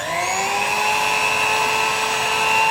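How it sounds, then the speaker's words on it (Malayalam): An electric beater runs at slow speed through milk bun batter, holding a steady, even mechanical whine from start to finish. "സ്ലോ സ്പീഡിൽ 1 മിനിറ്റോ 2 മിനിറ്റോ ഒന്ന് നന്നായിട്ട് മിക്സ് ആയി വരുന്നത് വരെ ഒന്ന് ബീറ്റ് ചെയ്യുക"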